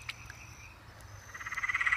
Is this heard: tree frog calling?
yes